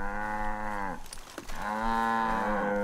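Cattle in the video game Far Cry 5 low loudly twice, one long drawn-out moo, a brief break, then a second sustained moo close by with no talking.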